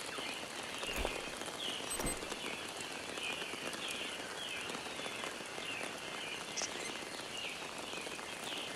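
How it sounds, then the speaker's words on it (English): Steady rain falls continuously in the game Green Hell on PSVR2, a dense even hiss of drops on surfaces, with a few faint chirps in the background. "Can't cook because it's raining"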